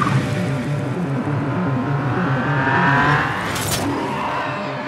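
Inverted car engine from the film Tenet, a reversed revving sound with pulsing low tones and rising and falling whines that swell toward a sharp burst, heard over the score.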